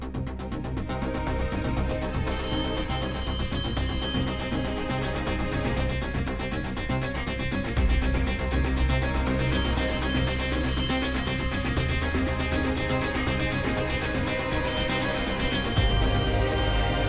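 A telephone rings in repeated electronic bursts, loud and close, with a steady tonal ring sounding alone throughout, no voices over it.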